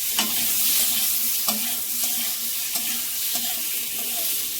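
Green-pea dhoka lentil cakes fry in a pan with a dense, steady sizzle close by, scattered with faint crackles and light clinks throughout, no voices.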